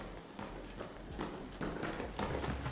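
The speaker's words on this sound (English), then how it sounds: "Footsteps echoing in a closed urban environment." Footsteps echo through a closed urban space in the video game Arc Raiders, a steady run of fairly close, reverberant steps with a faint tapping clip-clop quality, growing slightly louder toward the end.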